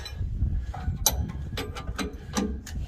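A wrench on a 21mm bolt of a 2018 Silverado rear shock gives a series of close, crisp ratcheting clicks and metallic ticks in short irregular bursts over a low background rumble.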